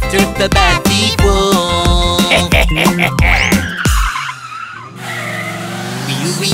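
A cartoon police car skids with screeching tires during a chase in a children's animated song, the squeal sweeping over bright music that drops away briefly before the track returns.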